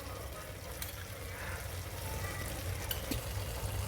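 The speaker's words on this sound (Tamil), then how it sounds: "இப்போ நம்ம இதில் புதினாவும் கொத்தமல்லியும் ஆட் பண்ணிக்கலாம். நல்லா மிக்ஸ் பண்ணிக்கோங்க." Mint and coriander being stirred into a sizzling pan while cooking a rice dish, giving a steady close frying crackle with faint scraping from the mixing, no talking.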